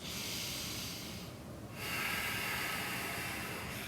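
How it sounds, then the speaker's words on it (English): Steady, hissy deep breathing during a downward dog pose in an intense power yoga session: close airy inhales and exhales that swell slightly partway through, with no talking. "And you take 3 deep breaths."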